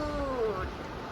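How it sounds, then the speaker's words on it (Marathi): A newborn kitten, born that morning, gives a thin, high, falling meow, one short cry that fades against a quiet indoor background. "आमच्या मांजरीने एका मस्तपैकी नवीन क्यूट अशा बेबीला जन्म दिलेला आहे"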